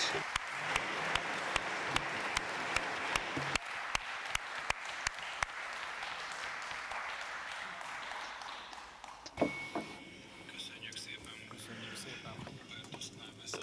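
Sustained applause from the audience after a speech at a Berlin Wall anniversary event: steady, fairly distant clapping with scattered sharp claps, fading near the end as quiet murmuring and room noise take over.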